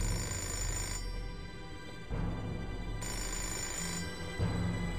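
Telephone ringing in the video game Fahrenheit Remastered, repeated electronic rings in bursts about a second apart, fairly quiet and alone.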